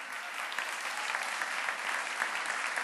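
An audience applauds a musician at a live concert, with a dense, steady wash of clapping close by, sustained and even from start to finish.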